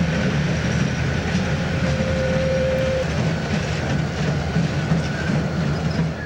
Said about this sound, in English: he's taking the engines down to the pit